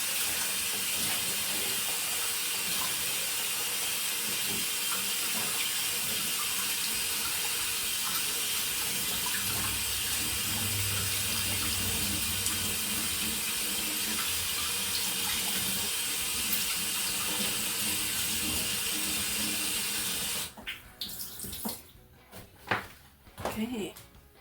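A kitchen tap runs steadily while hands are washed, a loud continuous broadband splash that holds for about twenty seconds and then cuts off, leaving a few faint knocks and handling sounds.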